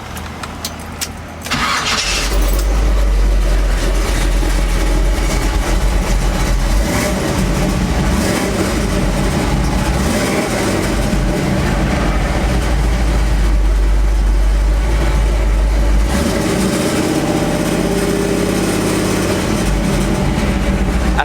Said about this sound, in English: let's see if this thing is gonna act better slash different